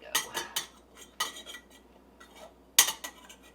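A spoon scrapes and clinks inside a jar of cooked chicken in short bursts. Three or four close, bright metallic scrapes are separated by quiet pauses.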